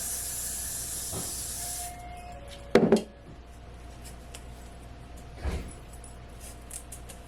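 A spray bottle is pumped onto a frontal wig: a long hiss of mist at the start, then one sharp burst of spritzes and a softer spray later, with quiet room noise between.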